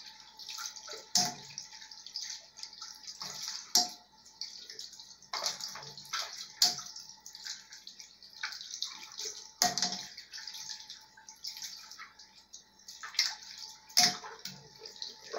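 Water runs from a tap while makeup sponges are rinsed and squeezed by hand, giving close, uneven splashes and trickles with repeated louder bursts and sloshes, and no talking.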